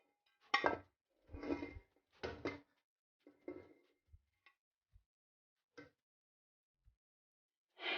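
Chicken pulao is served from a cooking pot onto a dish with a few scattered metallic clinks and scrapes of a spoon against the pot, close and fairly quiet, with short pauses of near silence between them.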